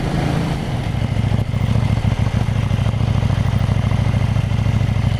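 A KTM Duke 790 motorcycle engine throbs steadily while riding, loud and close with a fast rhythmic pulse and some wind rumble, no talk.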